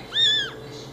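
A single cat gives one clear, close meow that rises and falls in about half a second, standing alone against quiet background.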